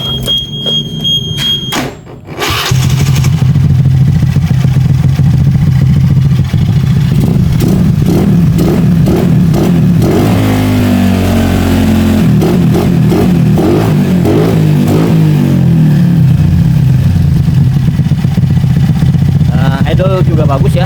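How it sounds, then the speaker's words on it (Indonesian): A motorcycle engine fitted with its original ignition coil starts after a brief click and clatter, then idles loudly and close with several revs. A voice is heard near the start. "Kita sebelum pasang kita nyalakan dulu motornya seperti apa ya."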